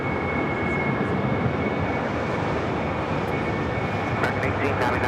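Airliner engine roar at LAX as a plane taxis and takes off on runway 25 right, a loud steady rumble filling the whole clip, with radio chatter faintly underneath.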